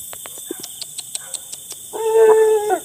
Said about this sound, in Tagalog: Ayun ang ang daming aso.